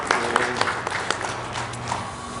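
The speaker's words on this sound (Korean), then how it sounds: "하나님께 영광의 박수 올려드리겠습니다" A congregation at a Sunday church service in Busan claps together, a soft continuous patter of many hands with a few sharper claps, heard at a distance in a reverberant hall.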